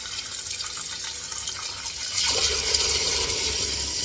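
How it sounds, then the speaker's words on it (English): Water is poured into a pot over split chicken breast for homemade chicken noodle soup, a continuous rushing splash that grows louder and heavier midway, close by with no talking. "let's get this water in"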